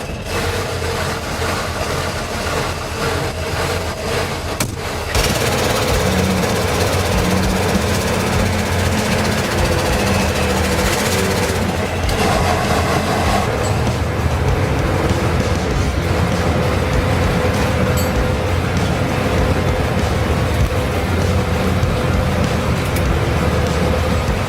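A Soviet ATS-59 tracked artillery tractor's heavy engine cranks on the starter, catches, and then runs steadily at a loud, rough, unbroken roar, heard up close without talk.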